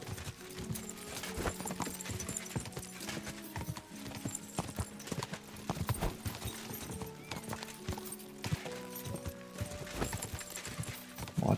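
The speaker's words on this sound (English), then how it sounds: "That's a cool looking horse." Horse hooves clip-clop in a steady walking rhythm on a hard path in Kingdom Come: Deliverance II. The repeated close knocks run the whole time over soft ambient game sound.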